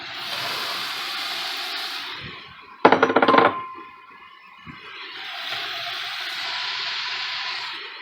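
Onions tumble into a soup pot for a hearty beef vegetable soup, making a brief clattering burst near the middle, set against a steady hiss from the pot before and after.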